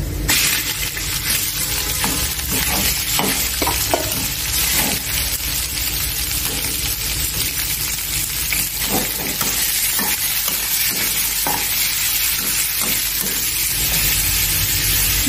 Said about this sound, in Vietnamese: Cho đậu gồng vô xào luôn.